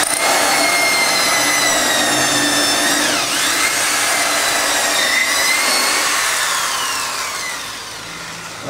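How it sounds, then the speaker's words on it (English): An electric drill whines loudly and steadily as it bores into an antique oak table top, its pitch dipping briefly under load partway through before the motor winds down toward the end. "now get the drill"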